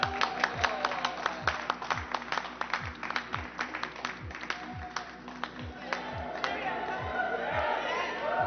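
Crowd applause rings out at the opening of an international architecture biennial in the Basque Country, with sharp rhythmic claps and low thumps, building and thickening toward the end.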